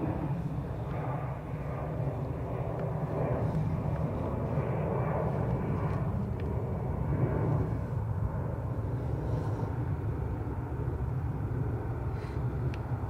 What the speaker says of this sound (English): Meanwhile, we have an Aer Lingus from Budapest on approach this side.